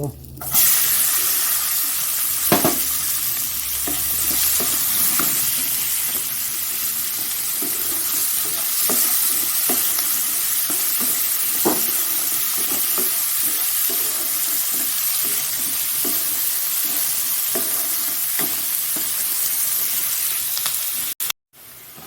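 Onions sizzle steadily in a hot pan for an egg curry, a loud continuous frying hiss broken by occasional stirring scrapes, then the sound cuts off abruptly near the end.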